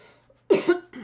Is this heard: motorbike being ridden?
no